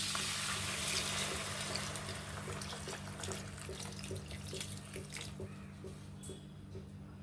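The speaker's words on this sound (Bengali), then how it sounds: "এবার এতে আমি হালকা গরম জল দিচ্ছি" Lukewarm water poured steadily from a vessel into a cooking pan of simmering vegetarian banana-flower ghonto with rice on a gas stove, a continuous splashing rush that fades slightly toward the end, with no voices.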